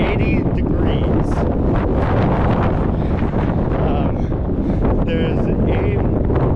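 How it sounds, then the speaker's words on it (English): Strong, gusty wind roars continuously across an exposed mountain trail near Mount Washington, buffeting the microphone with heavy low rumble and occasional surges, while faint voices are partly buried underneath. "we're going into the wind for a half mile"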